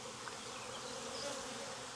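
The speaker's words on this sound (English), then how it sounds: "They're just busy. They're happy bees." Honey bees from a swarm drawing fresh wax on a hive frame make a steady, dense buzzing hum at close range, continuous and even in level throughout, with no voices.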